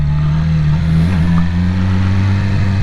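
A Yamaha R6 sport motorcycle engine revving on a ride, a steady loud drone that dips briefly and rises again, continuous and close throughout.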